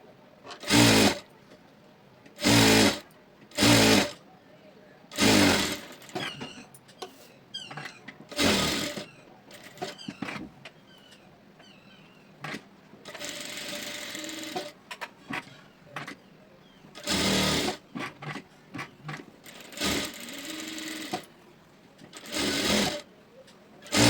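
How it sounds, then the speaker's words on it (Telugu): A sewing machine stitches a blouse lining to the main fabric piece in loud, repeated bursts of fast mechanical whirring, separated by short quiet pauses. "లైనింగ్ మెయిన్ పీస్ని కలిపి స్టిచ్ చేసేసింది"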